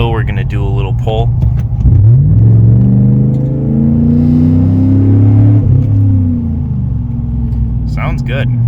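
Chevy Silverado pickup with glass pack exhaust pulling hard: a deep rumbling exhaust note rising in pitch as the truck accelerates, heard from inside the cab, with someone talking before and after the run.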